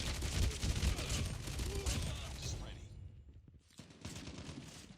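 Rapid gunfire bursts from the mobile shooter Call of Duty Mobile in a hard-point game mode, dense and loud for the first seconds, then thinning into a lull before firing resumes, with a voice speaking over it.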